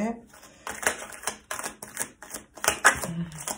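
Tarot cards being drawn and laid down in a series of light, papery clicks and taps in quick irregular bursts, with a soft voice faintly present beneath them.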